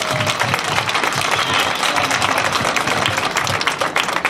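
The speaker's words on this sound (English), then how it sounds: "How about a big round of applause for all the guys out here with the marching band?" An outdoor audience claps steadily for a marching band at an end-of-year school band concert, producing dense, even applause that lasts several seconds with no voices over it.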